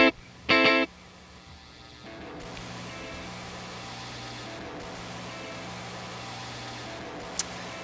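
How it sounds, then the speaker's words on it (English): A short sharp burst, then a gritty, heavily distorted rumbling drone from a Kurzweil KSP8 delay preset called Degenerator, swelling and continuing with a harsh, processed texture and a brief click near the end. "This is the distortion created by this particular preset and algorithm."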